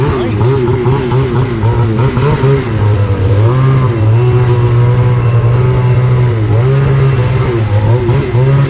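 An off-road vehicle's new aftermarket exhaust idles with a deep, steady rumble, rising in a few short revs and dropping back, loud and close, at a snowmobile and ATV show.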